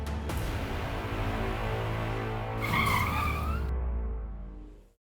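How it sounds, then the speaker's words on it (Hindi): A car brakes hard to a stop: a loud, close tire screech and engine roar swell for a few seconds, then the sound cuts off abruptly into silence. "सर गाड़ी क्यों रोक दी?"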